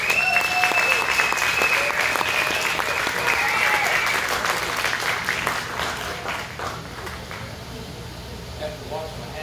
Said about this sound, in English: Y'all give him a big round of applause